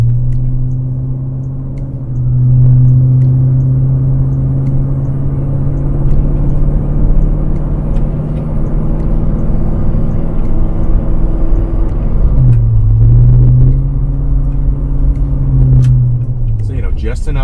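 A Land Rover Discovery 1 with a Flowmaster exhaust idles with a deep, steady rumble, then briefly dips and rises in pitch as the engine is blipped, heard close and loud with no talking.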